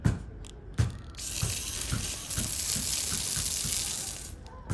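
Garden hose spray nozzle set to full mode, a steady close rush of splashing water after a few knocks and clicks at the start, continuing alone to the end.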